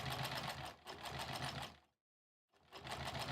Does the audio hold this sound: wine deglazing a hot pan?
no